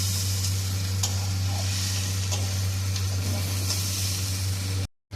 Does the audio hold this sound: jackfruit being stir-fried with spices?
yes